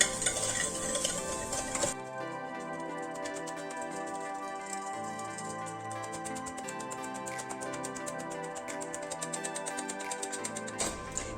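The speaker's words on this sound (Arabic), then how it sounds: "نضيف سكر سنيده، صافي غادي نبدا نطرب البيض ديالي" A whisk clatters steadily in a bowl of eggs and granulated sugar for a lemon cake batter, a fast continuous metallic ticking that runs without a break, close and fairly quiet with no voices.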